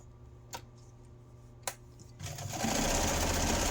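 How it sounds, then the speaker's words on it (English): A sewing machine joins fabric pieces, with two sharp ticks in a quiet room first, then the motor spinning up into a loud, steady, close whir of stitching. "Keep stitching across to the other side."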